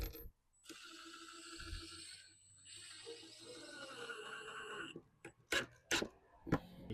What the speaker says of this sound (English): I'm going to drive this screw down.